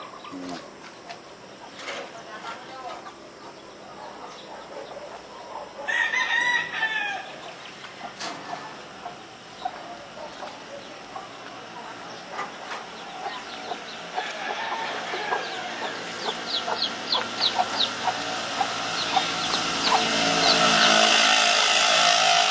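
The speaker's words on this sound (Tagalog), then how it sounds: "Ito yung ibang inahin." Hens clucking around a backyard flock, intermittent close calls over a steady outdoor background, with people talking nearby and the clucking growing busier toward the end.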